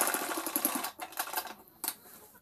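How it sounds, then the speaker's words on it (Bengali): A sewing machine stitches a petticoat waistband in short quiet bursts of rapid needle chatter, pausing between runs, close and faint. "আর একবার এইখানে আমি সেলাই করে নেব।"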